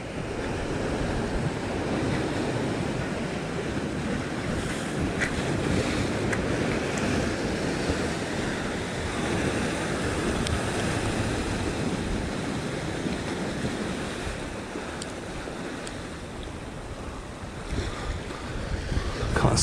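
Ocean waves surge and wash along the rocky Cornwall coast in a continuous roar, mixed with heavy wind buffeting the microphone, steady and loud throughout, with no speech.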